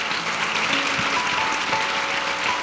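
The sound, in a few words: church congregation applause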